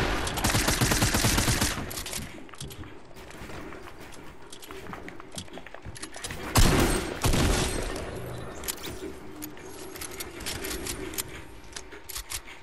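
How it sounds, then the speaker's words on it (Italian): Rapid automatic gunfire in the video game Fortnite, a dense loud stream of shots with a heavier burst partway through, continuing under the game's other action with no speech. "Ha sparato velocissimamente e l'ha killato"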